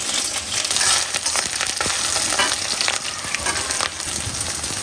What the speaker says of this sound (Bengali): কড়াইতে তেল দিয়ে দিয়েছি, গরম হয়ে গেছে তেল। এখন আমি হচ্ছে পেঁয়াজ মরিচ এগুলো দিয়ে দিব।